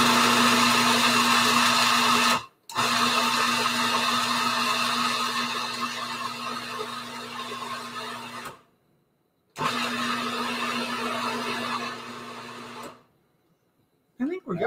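A food processor grinds parsley pesto into a paste, a loud steady motor whir running in long continuous bursts with two short stops between them.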